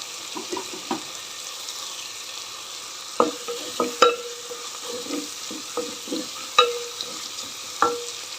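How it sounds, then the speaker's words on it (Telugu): Curry leaves dropped into hot oil in a pan for mint chutney, a low sizzle punctuated by several sharp spatters and stirring clinks. "నెక్స్ట్ కరివేపాకు వేస్తున్నా నేను"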